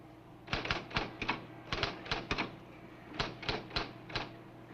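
Keys clack on a quiz machine's typewriter-style keyboard as an answer is entered, crisp mechanical clicks arriving in three quick bursts of three or four strokes each, close and fairly loud against a low steady hum.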